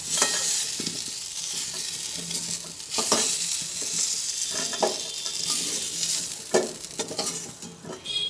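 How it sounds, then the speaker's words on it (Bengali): Potato pieces fry in oil in a wok, a continuous close sizzle punctuated by bursts of louder crackling and occasional stirring scrapes, with no one talking. "আলুগুলো এইভাবে তিন চার মিনিট ভাজা হবে"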